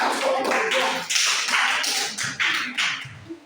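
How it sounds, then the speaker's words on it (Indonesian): A short burst of group applause from a classroom audience after a presentation, dense rapid clapping that holds steady for a few seconds, close and moderately loud. "mari kita berikan aplaus"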